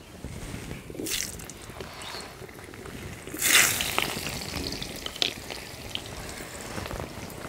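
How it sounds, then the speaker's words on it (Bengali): Potato and eggplant pieces fry in leftover fish-frying oil, a constant close sizzle with a loud burst of hissing and spattering as they hit the oil, then settling into steady crackle without talk. "এবার এই মাছ ভাজার তেলে আমি আলু বেগুনগুলো হালকা করে ভেজে নেব।"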